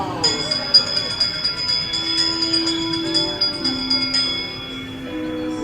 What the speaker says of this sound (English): give us a hint by ringing the bells